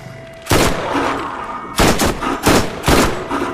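SMG gunfire in the video game Borderlands: a long burst, then several short, loud, rapid bursts in close succession, sharp and close with no voices over them.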